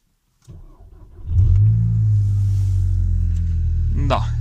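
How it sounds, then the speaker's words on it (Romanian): A Volkswagen Golf GTI fitted with a sport exhaust fires up for its first start, the engine catching after a brief crank and settling into a loud, steady, deep idle with a throaty rumble that holds to the end. "Da, deci se aud și evacuările sport."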